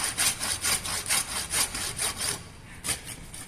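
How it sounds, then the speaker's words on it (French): A hand saw cuts through a leg of veal in steady back-and-forth strokes. The rasping is close and rhythmic, about a dozen strokes, then a short pause and one final stroke. "Et je continue à scier."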